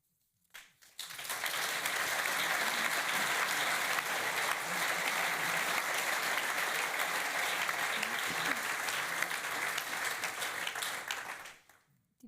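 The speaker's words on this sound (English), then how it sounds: "Did you just applaud for the great mood you put us in?" An audience at the opening ceremony of the 53rd St Gallen Symposium breaks into steady, dense applause that swells almost at once, holds evenly for about ten seconds, then cuts off sharply.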